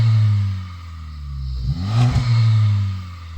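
A Honda Civic Type R engine idles with a deep, steady rumble, then revs up sharply and holds a higher, louder pitch before settling back. The sound is close and clear, with no talking.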